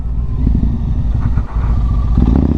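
A Yamaha MT-01 motorcycle rumbles loudly and close through a switchback corner in the Blagdon Hills, Somerset, its low, pulsing engine note dipping briefly mid-corner before the throttle opens again.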